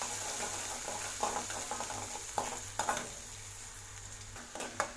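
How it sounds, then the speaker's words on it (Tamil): Chopped onions sautéing in a pan for an egg masala gravy, a steady low sizzle broken by repeated scraping stirs of a spoon against the pan, close and fairly loud, with no voices. "வெங்காயத்தை நல்லா வதக்கி விட்டுக்கலாம்."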